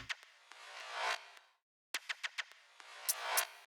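Percussion samples playing in Ableton, with crisp clicks, shaker-like hissy swells and quick rhythmic hits in two short bursts separated by a brief gap, heard alone.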